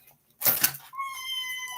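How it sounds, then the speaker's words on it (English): A small kitten gives a brief cry followed by a higher, drawn-out meow with clear tonal harmonics, heard close and fairly quiet in an indoor room. "That's our new little kitten."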